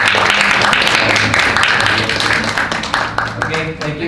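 Conference audience applause at an international academic meeting, a loud burst of many hands clapping that starts at full strength and fades toward the end, with voices mixed in underneath.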